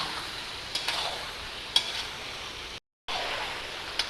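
Chicken with garlic-ginger paste frying in a karahi, a steady close sizzle with occasional stirring clicks and scrapes, briefly cut to silence midway.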